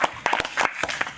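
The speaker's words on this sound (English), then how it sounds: "Let's give him a round of applause for that." Brief burst of audience applause at a coaching talk, with scattered sharp claps over roughly a second, moderately loud and close.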